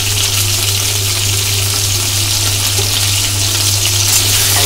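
Vegetables with salt and turmeric fry loudly in hot oil for a Bengali fish curry with greens stems and potatoes, producing a dense, constant roaring sizzle close by, unbroken and with no voices.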